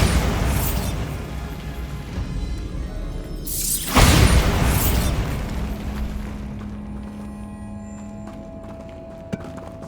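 A Bombarda blasting spell detonating in a tomb in Hogwarts Legacy, one sharp, loud burst near the middle followed by a fading rumble and a low hum, with quieter noise before it.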